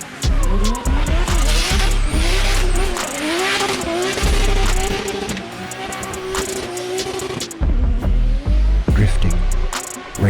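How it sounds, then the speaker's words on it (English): Rally race cars roar through a drift on a track, engines revving and sweeping in pitch as tires skid and squeal, loud and close, with a brief dip near the end before the engines surge again. "where engines roar"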